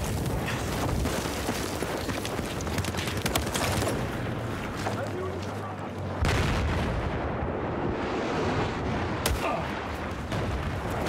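Dense gunfire and explosive blasts from the Battlefield 4 shooter game, Firestorm map, rolling continuously and loudly with a sharp boom near the middle, under faint voices.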